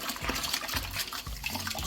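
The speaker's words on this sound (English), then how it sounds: "The fun bit of the brew day is giving the kettle a good scrub for next time." A homebrew brew kettle is scrubbed in hot water, giving close splashing and sloshing with rhythmic scouring strokes that repeat roughly every half second.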